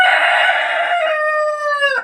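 A rooster crows once, close and loud, a long strained call that holds steady before breaking off at the end.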